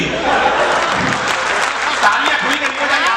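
An audience at a Haryanvi poetry recital claps in a dense, loud burst of applause, with voices talking over it throughout.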